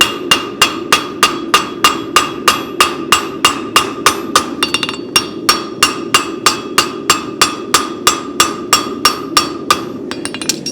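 Steady, even hammer blows strike a forged spavin horseshoe at the toe on an anvil, about three ringing metallic hits per second, loud and close, and they carry on without pause and with no talking.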